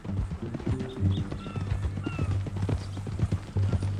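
A horse's hooves clip-clop in the Red Dead Redemption 2 video game, a steady, moderately close rhythm with faint ambient sounds and no talk.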